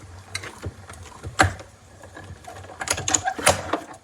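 A die-cutting machine cranked by hand, pressing folded cardstock through cutting plates for a heart-shaped card, gives off a series of irregular mechanical clicks, creaks and thumps that grow busier toward the end, close by with no talk.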